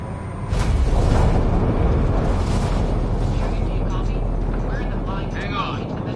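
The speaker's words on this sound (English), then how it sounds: "Initiating atmospheric entry" Deep, sustained roar and rumble of a spaceship entering a planet's atmosphere in Mass Effect Andromeda, rising in quickly and holding steady and loud, with speech over it.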